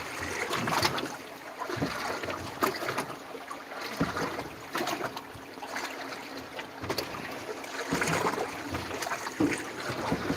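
Oars working a small dinghy on the open ocean at night, with soft irregular splashes and knocks against a breezy, watery background, close and fairly loud, no talking.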